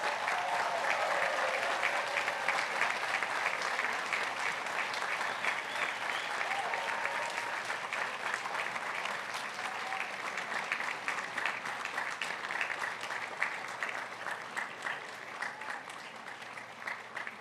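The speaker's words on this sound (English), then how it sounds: "Graduates, please stand and applaud these individuals who have contributed to your many" Graduates at a baccalaureate ceremony stand and applaud, a dense, steady wash of clapping from a large crowd that carries on evenly for over fifteen seconds before easing slightly at the end.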